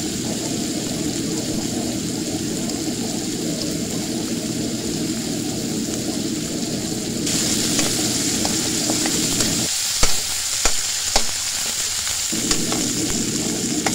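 Pork sizzles and fries in a pan while being stirred until golden brown for pork tinola, a steady close frying hiss with a few sharp scraping clicks of the stirring near the end.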